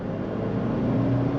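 A 2022 Ford Ranger XLT 4x2 SuperCrew pickup engine drones steadily from inside the cabin while accelerating, a low continuous hum with a slowly rising tone.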